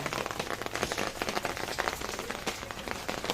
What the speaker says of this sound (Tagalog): Umulan guys, maulan.